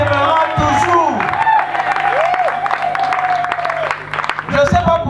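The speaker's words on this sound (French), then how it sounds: "Je ne sais pas pourquoi vous applaudissez." Crowd at a funeral in Kinshasa applauding and cheering, dense clapping mixed with shouts and whoops, with voices talking over it throughout.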